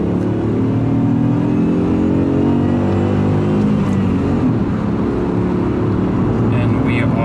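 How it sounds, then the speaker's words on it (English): A 2017 Opel Karl Rocks accelerating at full throttle in second gear on a highway, engine drone rising steadily in pitch from inside the cabin with road noise, while someone talks over it. "So this is full throttle now, yeah, second gear."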